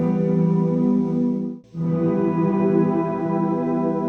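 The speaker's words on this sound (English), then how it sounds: "It's also in light mode, which adds an octave up effect to the reverb" A Walrus Audio Slöer reverb pedal in light mode adds a shimmering octave-up layer to a sustained guitar chord, held steadily apart from one brief cut-out, clear and close with no talking.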